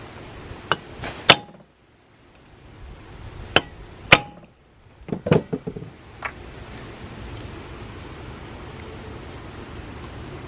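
Metal hammer taps seating a bronze rivet in a Leslie bronze back cap, a few sharp, ringing clinks in short bursts with quiet gaps between, close and fairly loud.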